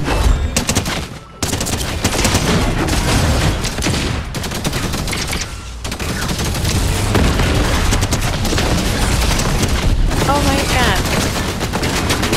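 A gun firing in Fortnite, rapid loud volleys of overlapping shots and booming impacts nearly nonstop, with a short break near the start, close and dense, while a player talks over parts.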